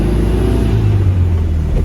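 A car fitted with a Solex 34 PICT 3 carburettor pulls away in first gear, its engine droning close and loud in a steady, low rumble throughout.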